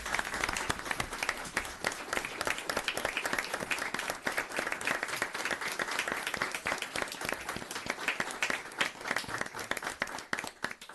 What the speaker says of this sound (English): So if I can get a nice round of applause for Detective Sergeant Rapisarda.